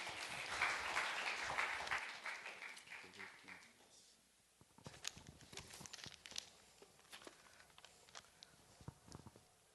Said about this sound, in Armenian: եկեք ջերմ ծափահարությամբ բարի գալուստ ասենք